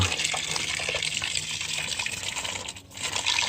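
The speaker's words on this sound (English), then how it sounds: "So just watering them in." Water poured over freshly planted tomato plants makes a steady, close gushing splash that holds throughout, briefly easing off near the end before resuming.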